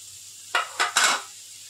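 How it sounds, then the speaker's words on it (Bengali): Chopped onion and slit green chilli hit hot oil, three quick loud sizzling bursts with stirring in a pan, then a steady low frying hiss. "এই যে পেঁয়াজটা কুচিয়ে রেখেছিলাম, কাঁচা লঙ্কাটা চিড়ে রেখেছিলাম, এইটা তেলের মধ্যে দিয়ে দেবো"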